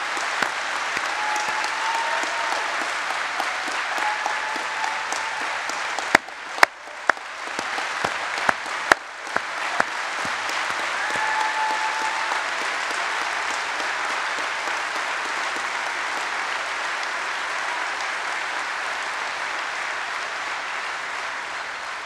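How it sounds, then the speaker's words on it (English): Audience applause at a union convention, sustained clapping from a large crowd that fills the room throughout, with a few sharper claps standing out midway. "So I'd like you to join me in applauding them for the work that they've done."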